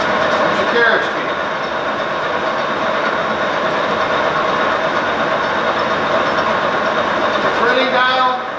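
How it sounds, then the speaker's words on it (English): A LeBlond Regal 15 x 54 inch engine lathe with servo shift runs with its carriage feed engaged, giving a loud, steady mechanical drone with a rattling texture, and faint talk mixed in. "There's your carriage feed."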